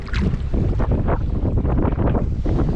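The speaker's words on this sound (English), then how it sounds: "the wind's picking up, the swell's picking up, it's getting choppy" Strong wind at sea buffets a kayak angler off the UK coast as the swell builds and the water turns choppy, making a loud, constant roar with heavy rumbling across the microphone throughout.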